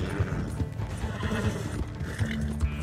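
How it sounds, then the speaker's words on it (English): Horse hooves clip-clopping at a gallop with loud neighing in the Red Dead Online video game, set against a dense, steady game soundscape with no talk. "I need to get me one of these horses, though. This guy's fast."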